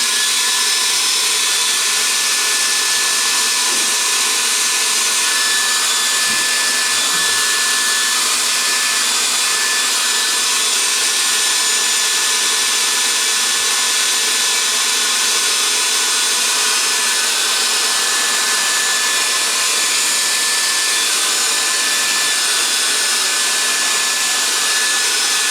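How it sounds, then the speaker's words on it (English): A hairdryer blows on a wet watercolour painting on silk, a loud, steady, close airy roar held for the whole stretch without pause or talk. "grab that hairdryer again and let's dry that white."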